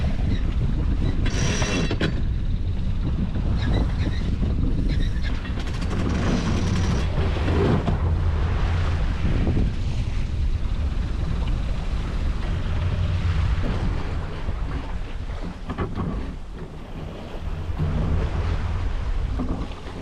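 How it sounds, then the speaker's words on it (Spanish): Strong wind rising at sea off Cabo de Gata in the Mediterranean, roaring loudly and steadily across a sailboat's microphone with rumbling gusts and water rushing past the hull, building in waves throughout with no talking. "parece que ya empieza a levantarse el viento que se pronosticaba"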